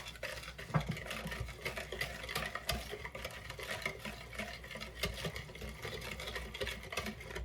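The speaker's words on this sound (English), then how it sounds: "We're gonna make sure we whisk it really well." Wet ingredients and sugar are whisked in a bowl, making a continuous quiet scraping and tapping patter that runs steadily throughout without voices.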